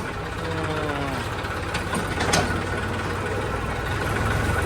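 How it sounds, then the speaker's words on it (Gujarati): A tractor engine idles at a grain market yard, a steady low rumble with a faint tonal whine early on, running continuously and fairly close with no talk over it. "લાઈનમાં ટ્રેક્ટર મૂકવાનું, એ રાજીવ નંબર આવશે એટલે આપણો નંબર આવશે ભાઈ"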